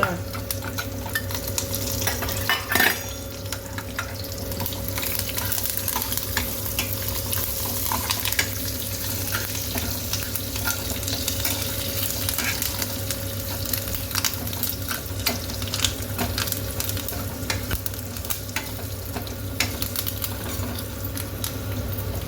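Chana dal, urad dal and curry leaves fry in hot oil as a tempering for ridge gourd huli. A close, steady sizzle continues throughout, broken by the scrape and clink of stirring in the pan.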